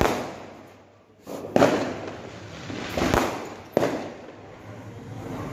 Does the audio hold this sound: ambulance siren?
no